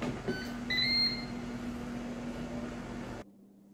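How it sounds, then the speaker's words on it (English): A Ninja Speedi cooker running with a steady mechanical hum and fan noise, a couple of high electronic beeps early on, then the machine cutting off abruptly to near silence with a faint residual hum. "So the Ninja is done cooking on the Speedi function"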